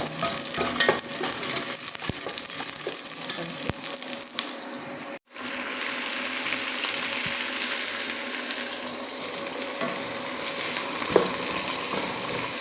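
Food frying and sizzling steadily in a pan for lunch, with stirring scrapes and a brief clatter, a momentary dropout midway, then continued close sizzle with faint tap-water sounds behind.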